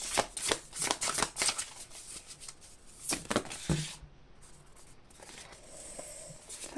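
Tarot cards being shuffled for a reading, a quick riffling flutter of rapid card slaps, close and crisp, fading into quieter handling.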